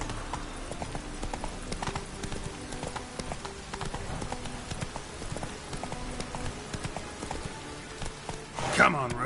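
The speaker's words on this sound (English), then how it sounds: "Whoa there, Roach" Horse hooves clip-clop steadily through The Witcher 3 video game, a continuous rhythmic plodding at moderate distance under game ambience, with a brief louder burst near the end.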